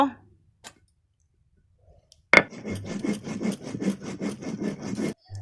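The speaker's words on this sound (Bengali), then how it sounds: "জিরা বেটে নেব।" Cumin seeds ground by hand on a grinding stone while preparing duck curry, a rhythmic rasping scrape of stone on stone in quick repeated strokes, close and fairly quiet, after a short pause.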